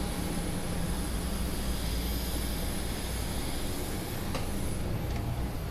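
A Lion Air passenger airplane's engines roar steadily at the airport on a Surabaya to Bali trip, a loud continuous broadband drone with no voices.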